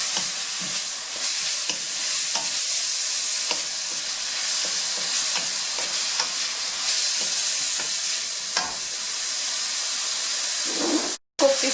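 Fried rice noodles sizzle and hiss steadily in a hot pan while a utensil stirs and scrapes them in repeated light strokes, loud and close, with a brief break near the end.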